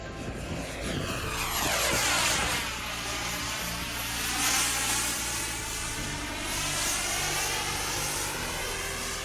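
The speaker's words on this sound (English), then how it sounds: "Have you ever seen an airplane doing acrobatics?" Remote-controlled airplane flying aerobatics, its propeller engine whining steadily and sweeping up and down in pitch as it dives, climbs and passes, loud and close throughout with no talking.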